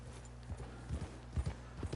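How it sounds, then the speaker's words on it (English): Hooves from a horse in the Red Dead Redemption 2 video game clop in an irregular walking rhythm, several distinct thuds over a low steady hum, moderately close. "I've bonded with my horse."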